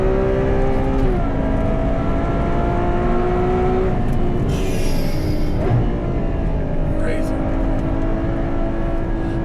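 Ferrari 812 Superfast V12 sports car accelerating hard, engine tone climbing through the gears in steady rising sweeps inside the cabin, loud and continuous, with someone talking over it.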